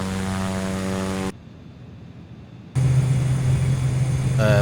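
Propeller aircraft engine droning steadily in a flight simulator, loud and constant. It cuts to a quieter muffled hum partway through, then returns louder with a deeper tone.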